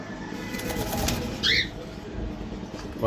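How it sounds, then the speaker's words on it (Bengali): A brief call from a black Jalali pigeon rises once over a low, steady background hum in a loft, with soft fluttering nearby. "এটা হচ্ছে একটা নট কবুতর"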